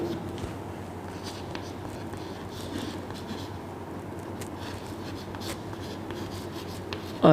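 Pen or chalk strokes write a negative sign, faint scratchy taps and scrapes spread over a quiet room hum, close and soft.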